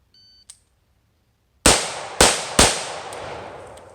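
An AR15 rifle fires three sharp, loud shots in quick succession at a 10-yard shooting drill, each followed by a ringing decay, after a brief electronic timer beep.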